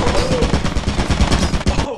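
A turret in Lethal Company fires a rapid, unbroken burst of loud, close gunshots in a steady rhythm that cuts off abruptly at the end.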